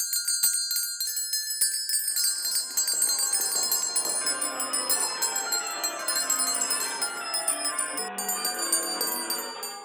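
Bell ringing as a stage sound effect in a school drama production of A Christmas Carol, repeated bright metallic strikes with long shimmering overlapping decay, steady and fairly loud throughout.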